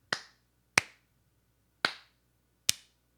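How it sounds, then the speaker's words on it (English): A slow clap in a podcast setting: four sharp, isolated hand claps spaced unevenly about a second apart, close and dry with quiet between them. "Come on, slow clap it."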